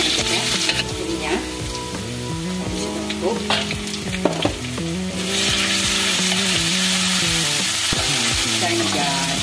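Garlic, shallots and chili fry in a hot pan with a steady, loud sizzle, broken by a few clinks and stirring scrapes over a soft musical backing.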